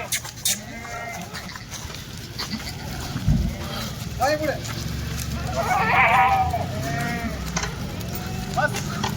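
Goats at a Marathi goat farm sale bleat several times, wavering calls rising over steady background noise and people talking nearby, with a louder cluster of cries near the middle.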